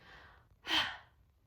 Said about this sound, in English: I like to do that with a sharp exhale